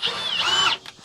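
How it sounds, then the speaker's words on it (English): A power drill whines as it bores an opening in a metal motorcycle trailer mount, the motor note rising and falling loud and close for under a second, then stopping. "So I'm gonna drill this up, take my time. I'm gonna drill this opening, all right?"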